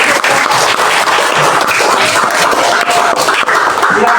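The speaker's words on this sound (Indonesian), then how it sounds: "Kasih tepuk tangan." A classroom of students claps hands together in dense, continuous applause at a primary school science lesson, the loud crackling claps filling the whole clip without pause.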